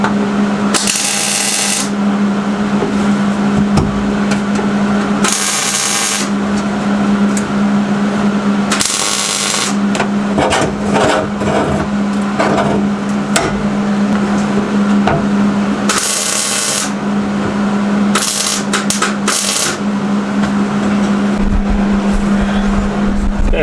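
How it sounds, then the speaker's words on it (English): Tack welding a fender panel onto a 1998 Jeep XJ with a comp cut: several short, harsh crackling bursts of a second or two each, spaced irregularly over a steady background hum, with no talking. "I'm going to go ahead, tack this panel into place to the existing panel"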